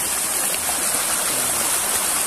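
Cold water flowing through a rice field, a continuous rushing, gurgling stream that is close and steady throughout with no talk.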